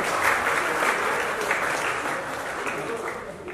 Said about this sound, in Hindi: तालियों में कंजूसी नहीं होनी